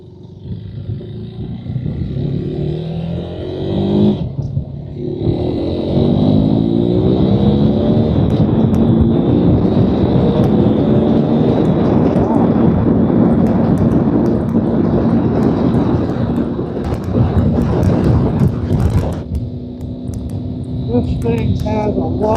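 KTM 2026 Adventure R motorcycle engine pulling in low gear while riding, a loud continuous rumble with rising and falling revs and wind buffeting, under a rider's talk.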